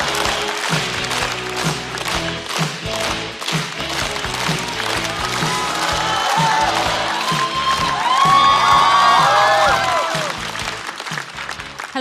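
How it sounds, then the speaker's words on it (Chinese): Applause from a studio audience at a Chinese stand-up comedy show, a dense, steady clatter of many hands with some cheering, swelling near the end over bright stage music. "掌声有请张慧"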